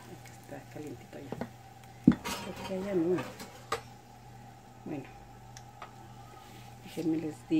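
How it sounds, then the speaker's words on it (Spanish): A potato patty is set into a frying pan of oil that is not yet fully hot, giving a few clinks and scrapes of utensil against pan with a soft, brief sizzle in a quiet kitchen. "la vamos a sacar y la vamos a echar al sartén."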